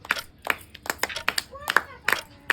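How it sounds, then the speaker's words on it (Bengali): Hand clapping for a girl named Sufia during a water challenge game, a series of sharp claps at an irregular rhythm mixed with overlapping voices and chatter nearby. "সুফিয়ার জন্য হাততালি হোক"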